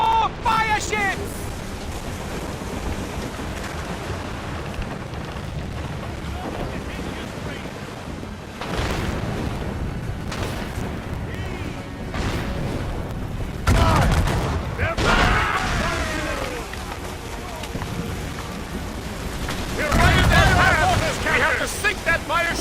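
Naval cannons boom and explosions roll across open water in Assassin's Creed Rogue as fire ships are sunk, heavy blasts recurring amid wind and sea noise, with shouted crew voices over the battle.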